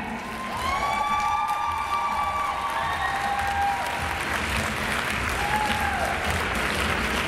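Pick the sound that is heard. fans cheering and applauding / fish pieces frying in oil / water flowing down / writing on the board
fans cheering and applauding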